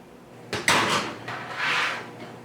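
Potatoes going into a home oven: a sharp clunk of the oven door or rack, a metallic rattle and slide, then a softer closing thud, close by with no talk.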